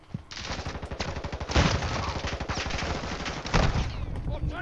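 Sustained automatic gunfire in a first-person shooter game, rapid shots rattling continuously for several seconds with heavier bursts layered in, loud and dense throughout.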